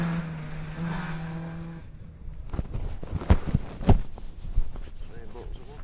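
A Vauxhall Nova rally car, number 102, drones past on a special stage at Glendaruel. Its engine note is moderately distant and fades after about two seconds. Scattered clattering knocks and nearby voices follow.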